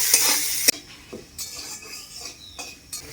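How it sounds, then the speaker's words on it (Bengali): Peanuts frying in hot oil with turmeric and salt, with a brief loud sizzle followed by a few clinks and scrapes of a utensil stirring in the pan, close and short. "বাদামের মধ্যে সামান্য হলুদ দিয়ে দেবো সামান্য লবণ দিয়ে দেবো দিয়ে ভালো করে বাদামগুলো ভেজে নেব"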